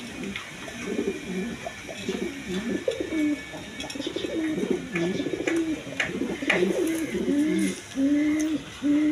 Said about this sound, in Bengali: এখানে এক পেয়ার টিউলিপ কবুতর আছে।